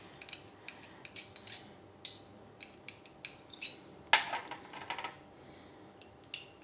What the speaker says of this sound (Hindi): साटा बनाने के लिए हमें मैदा और एक घी को अच्छे से फेंट के लेना है